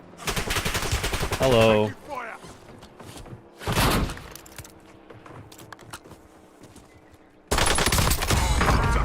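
Bursts of rapid gunfire in Call of Duty: Warzone, a loud volley at the start, a shorter burst in the middle and another sustained burst at the end, with brief quieter gaps and a voice speaking in between.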